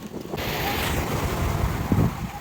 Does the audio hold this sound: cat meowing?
no